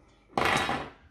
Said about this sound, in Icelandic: Ég ætla núna að taka bara hérna skálina úr, hrærivélaskálina úr